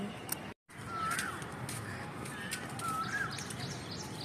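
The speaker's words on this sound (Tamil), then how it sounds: "போகும்போது என்னை மைனா கூப்பிட்டுச்சு" A common myna calls in two short whistled, rising chirps, fairly faint and set against steady outdoor background noise, with a brief dropout near the start.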